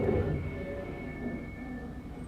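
A train pulling into a station in the Roblox game Bathwick Town, with a low rumble and steady tonal whine of the carriages, fairly loud and close, easing slightly toward the end with no talking.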